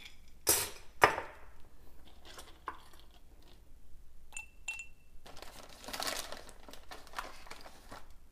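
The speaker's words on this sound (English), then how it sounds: "So I'm just going to put all this stuff in this little ball jar" Snack ingredients tumble into a small glass Ball jar, with a couple of sharp clinks and taps up front followed by softer rattles, rustling and crinkling, close and fairly quiet.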